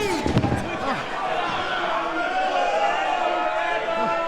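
A wrestler drives a high knee off the top rope at a live SLAM! event at the Ainslie Football Club, with a sharp impact thud early on before a loud crowd roar and commentary continue over the arena noise.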